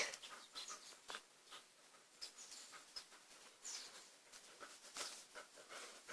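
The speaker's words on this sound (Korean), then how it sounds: "저거 닭도 있는데." Faint, scattered clucking from chickens, with short irregular calls over a quiet outdoor background.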